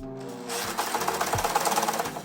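An overlock serger sewing machine runs with no fabric under the presser foot, a fast steady mechanical whir with rhythmic needle clatter, close and continuous, with no voices.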